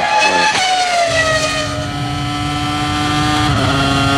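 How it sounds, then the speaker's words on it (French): Loud onboard howl of a 2002 Ferrari F2002 Formula 1 engine, a high harmonic-rich scream that drops as it downshifts, then holds a steady tone with a brief shift near the end. "Comme si vous étiez dans la Ferrari F2002."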